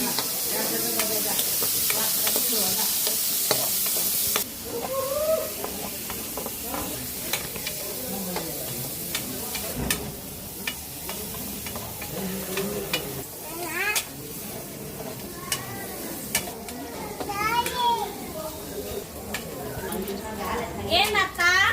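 Ingredients for chicken curry sizzle and fry steadily in a pan in a home kitchen, with occasional stirring scrapes under near-continuous conversation between people.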